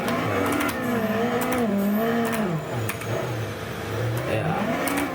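Car engine in a Roblox driving game revving while drifting, its loud, close whine rising and falling in pitch as the throttle changes.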